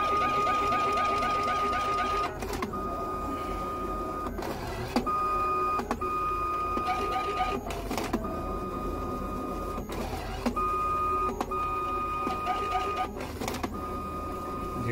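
An Evolis Badgy 200 ID card printer runs its cleaning cycle, its motor whirring steadily with repeated mechanical pulses and brief pauses, close and continuous throughout.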